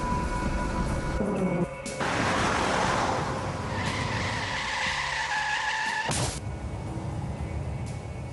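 A car approaching on a street skids, tires squealing loudly over several seconds with engine noise, then a sharp abrupt sound as it stops.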